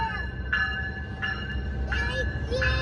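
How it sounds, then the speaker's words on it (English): A Long Island Rail Road train pulls out of Kings Park station with a steady low rumble, and loud tonal signal bursts repeat about every 0.7 seconds over it. "It's leaving. Thank you, train."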